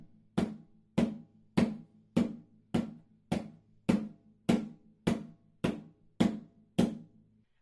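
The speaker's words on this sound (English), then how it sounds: "So the muffled tone looks and sounds like this." Muffled, closed tone strokes on a hand drum, played alone as about a dozen short, dry hits at an even, unhurried pulse, each cut off quickly without ringing.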